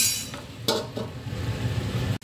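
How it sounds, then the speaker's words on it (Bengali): Curry with yogurt stirred in a covered pot, a brief close scrape and metallic clatter early on, then a low steady rumble with soft intermittent ticks. "এবার ঢাকা দেবো আর নাড়বো।"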